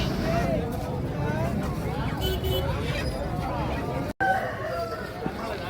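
A rooster crows amid the busy din of a chicken market in Machilipatnam, with a steady wash of crowd noise and several overlapping calls, people talking nearby throughout.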